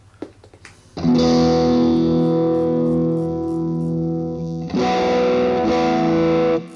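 Driven electric guitar played through a Boss IR200 with a 4x12 Bogner cabinet impulse: a loud, thick distorted chord rings out and sustains for several seconds, then a second heavy chord is struck and held, with no voices.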